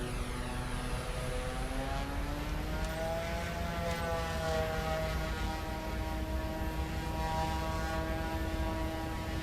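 Turboprop aircraft engine in the flight simulator game MSFS 2024, a steady loud drone with layered tonal whine that rises slightly in pitch as throttle comes up, continuous throughout with no talk.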